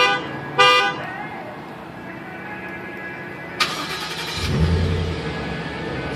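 Ford Tonka truck with a cat-back exhaust starting up and settling into a low, steady rumbling idle, with a short horn-like tone early on and a deeper swell of engine rumble toward the end.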